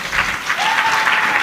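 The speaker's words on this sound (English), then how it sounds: "Another round of applause." Applause from the audience at a judicial conference general meeting, a steady burst of clapping from many hands, close and loud, for the whole short stretch.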